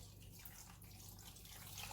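Water runs and trickles through a metal grater used for coconut, yam and potato, rinsing it out into a container; a soft, steady wash of flowing water, fairly faint, with no talking.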